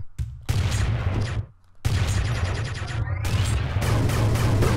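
Shotgun fire in the side-scrolling game Iji, dense loud bursts of blasts with a short gap near the start, crashing and continuous over game sound.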